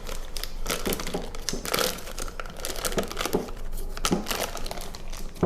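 A plastic piping bag fitted with a Wilton 1M tip is folded over a glass while making mint chocolate chip cupcakes, giving a steady close crinkling and rustling of plastic with small irregular crackles and no voice.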